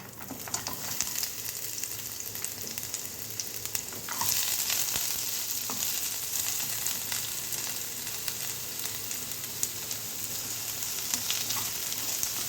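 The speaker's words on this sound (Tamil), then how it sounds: "ரெண்டு பெரிய வெங்காயத்தை நல்லா வதக்கிக்கலாம்." Two large onions sautéing in a pan with a steady, bright sizzle throughout, plus occasional stirring scrapes and clicks. No voices.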